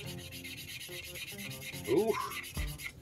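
Chisel tip of an Adaxi dual-ended brush marker laying yellow ink onto paper, giving a soft, close rubbing scratch in short strokes, with a brief voiced exclamation partway through.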